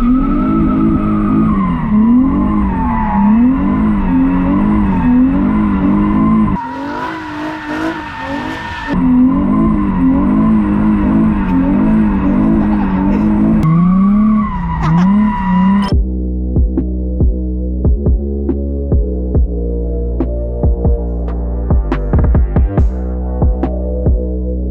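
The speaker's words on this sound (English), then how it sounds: "are you ready to do a donut?" Nissan Z drift car doing donuts: a loud engine revving in wavering cycles with tire squeal for about sixteen seconds, then a lower steady idle hum with small clicks and ticks.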